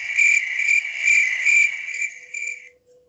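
A cricket chirp effect from a soundboard trills loudly in rapid repeating pulses, close and alone, then fades out near the end.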